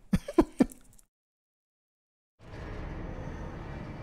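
A few short, harsh coughs or throat-clears from a man in quick succession, close and fairly loud, followed by silence and then a steady rumbling, roaring noise.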